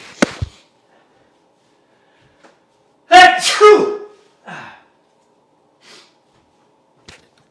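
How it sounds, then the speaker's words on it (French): A single loud sneeze bursts out in a quiet room, preceded by a sharp intake and followed by a couple of small sniffs and breaths. "Là, je vais éternuer."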